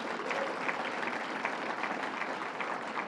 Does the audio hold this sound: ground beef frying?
no